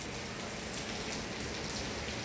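Steady rain falls outdoors, a continuous dense hiss of drops with no voices, even and close throughout.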